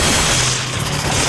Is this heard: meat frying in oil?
no